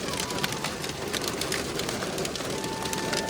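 Small hailstones fall outdoors in Leicester, clattering in a dense, continuous patter of sharp ticks on hard surfaces at moderate loudness.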